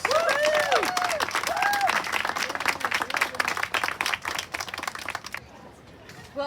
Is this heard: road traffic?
no